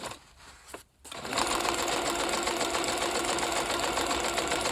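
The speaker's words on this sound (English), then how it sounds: "hope the sewing machine doesn't make the phone shake too much" A sewing machine stitching large scraps of paper starts after a brief pause and runs in a steady, fast, close mechanical whir.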